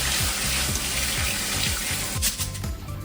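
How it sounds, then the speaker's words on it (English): Kitchen tap water pours steadily into a sink while rice is rinsed, a continuous close hiss and splash with a faint rhythmic churning underneath and a brief shift in flow near the end. "we're gonna go under the sink and clean the rice"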